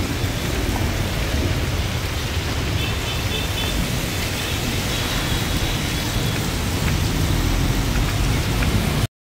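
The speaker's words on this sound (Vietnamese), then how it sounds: "Cả mấy tiếng đồng hồ này mà mưa vẫn lớn nè cả nhà." Heavy rain pours down without a break, a dense, loud, steady hiss of drops drumming on surfaces, close by and with no voices over it.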